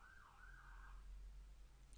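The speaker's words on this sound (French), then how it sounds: "Ah non, c'était une ambulance." Faint and distant, an ambulance siren wails outdoors, its tone rising and falling for about a second before fading under a low steady room hum.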